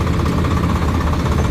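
A Swaraj 855 tractor, a 2023 model with a 57 hp engine, runs with a steady, loud, rough diesel chug and knocking vibration throughout, with no pauses or voices.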